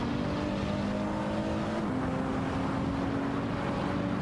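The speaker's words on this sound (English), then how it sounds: "Vex 0v0 ID is piloting a Mercedes AMG GT3, while WAP is behind the wheel of a Lexus RCF GT3." GT3 race car engines, including a Mercedes AMG GT3 and a Lexus RCF GT3, in a sim racing video game: a continuous droning engine hum with a steady pitch that briefly dips and rises again, no speech.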